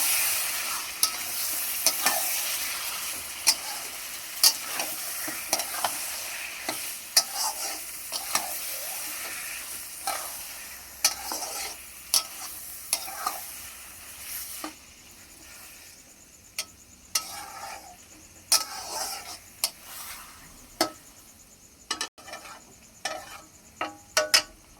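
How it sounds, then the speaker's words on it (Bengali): Chicken stirred and fried in a pan makes a continuous sizzle with repeated sharp scraping and clacking strokes of the spatula, irregular and close, growing more sporadic toward the end, with no voices. "চিকেনটা দিয়ে এবার ভালোভাবে কষিয়ে নেব।"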